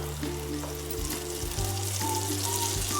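Oil sizzling in a pan while loitta fish fry, a steady close crackling hiss with small bubbling pops and no talking.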